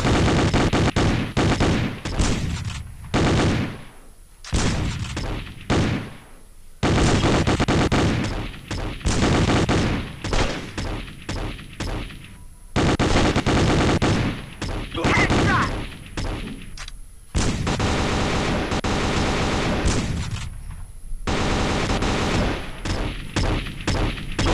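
Repeated bursts of gunshots from a P90 in a shooting video game come in loud volleys separated by short gaps, with a voice speaking at times between the shots.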